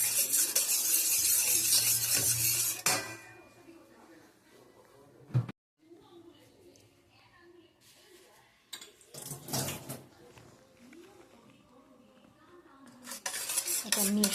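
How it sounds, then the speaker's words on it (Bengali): Dough being worked with ghee in a bowl for tandoori roti, giving soft clattering and scraping of bowl and utensils, busier at the start and end with quieter handling in between. "ঘি দিয়ে ভালো করে মিশিয়ে নিতে হবে।"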